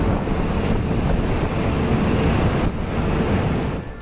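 Heavy ocean waves surge around an offshore oil rig, a loud, continuous roar of churning water with gusting wind buffeting the microphone and no voices.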